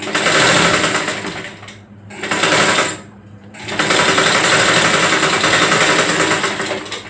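A sewing machine stitches a tux-style blouse in loud, fast, even bursts of needle chatter, stopping briefly twice between runs of stitching.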